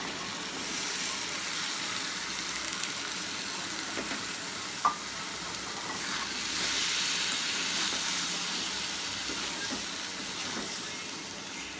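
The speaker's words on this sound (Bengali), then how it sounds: "আলুটা ভাজা হয়ে গেছে" Boiled fig and potato pieces fry in oil with spices in a pan, giving a steady, moderate sizzle with soft stirring scrapes and a brief clink midway.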